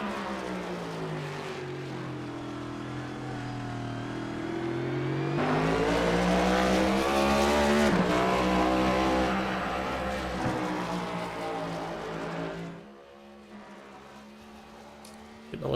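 Race car engine of the 22 Takeoff Driving School Mustang in the iRacing sim at Sonoma, a loud sustained drone that swells and revs higher mid-lap, then drops sharply near the end.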